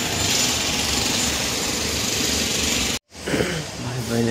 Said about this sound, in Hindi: कंस्ट्रक्शन चालू है गाइस।